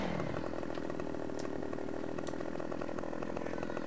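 Chainsaw in a farming video game, whining steadily at high revs for the whole stretch, with a buzzing, even engine tone and occasional faint clicks, loud and close, no talk.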